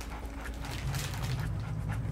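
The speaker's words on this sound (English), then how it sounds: "What kind of dog is it? I think it's a Rottweiler." A Rottweiler pants in the Splinter Cell video game, rapid breathy huffs over a dense, steady game background with a low rumble, moderately loud and continuous with no speech.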